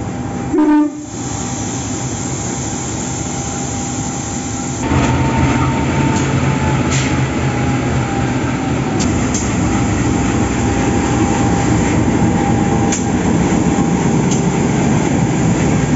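A KA Logawa New Generation passenger train hauled by a diesel locomotive rumbles steadily close by, its engine droning and growing louder partway through, with a few short horn-like tones over the running noise.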